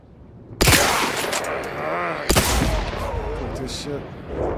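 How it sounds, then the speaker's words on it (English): Two sharp rifle shots in The Outer Worlds 2 a couple of seconds apart, each with a ringing decaying tail, over low game ambience. "I can kill them in 2 shots with the rifle"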